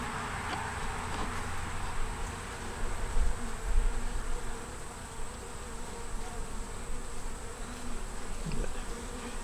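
Honey bees buzz inside a four-frame nuc with a yellow queen, a dense, steady, close hum of many wings, swelling slightly at times, with no talk.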